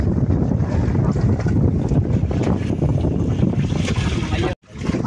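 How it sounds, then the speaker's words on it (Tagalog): Steady gusting wind buffets the microphone in a low, continuous roar, with a brief dropout near the end. "Sarap na hangin dito sa Kubo."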